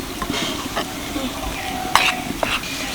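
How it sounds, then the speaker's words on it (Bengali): Boiling water being mixed into fine aromatic rice flour for khili pitha, soft stirring and scraping in a bowl with a couple of sharper clinks, close and steady. "অল্প অল্প করে দেব আর মেশাতে থাকবো"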